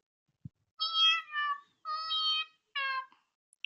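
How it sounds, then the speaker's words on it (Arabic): A cat meows three times in a row, clear and close, with short pauses between the drawn-out calls, after a faint tap. "قطة"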